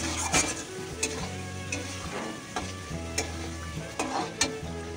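Biryani ingredients are stirred and fried in a hot pan before the chopped onion goes in. A steady sizzle runs throughout, and a spatula scrapes and clinks against the pan at irregular moments. Nobody talks.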